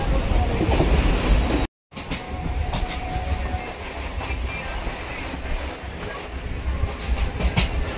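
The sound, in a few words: Sealdah–Baruipara local train running into Baranagar Road station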